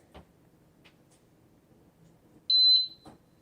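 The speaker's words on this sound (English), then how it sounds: "And it beeped, so that tells us it's ready." A single bright electronic beep from a Cosori electric pressure cooker, about a quarter second long, rising clearly over quiet room noise with a couple of soft clicks nearby.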